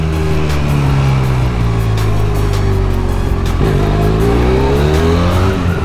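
A Benelli Leoncino 500 motorcycle rides through tight mountain hairpin bends, its engine droning loud and close with steady harmonic pitch that dips and climbs again as the rider shifts and accelerates.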